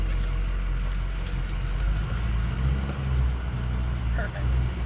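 A vehicle idles with a low, steady engine rumble while backing up a trailer, the motor droning continuously and close by with faint wind noise, as someone talks over it.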